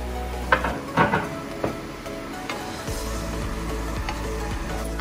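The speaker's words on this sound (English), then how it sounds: "And this is going to go straight into the minced meat mixture as well." Grated zucchini and carrot tipped into minced meat frying in a pan for a healthy lasagna, a few knocks and scrapes over a steady low sizzle, no talk.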